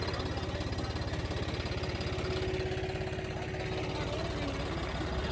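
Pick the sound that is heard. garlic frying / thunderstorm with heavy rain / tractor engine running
tractor engine running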